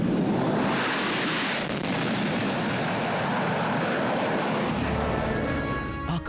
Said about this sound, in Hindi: वायु सैन्य शक्ति में इजाफा करने वाले 1 C-17 और 2 सुखोई 30 मिलकर बनाएंगे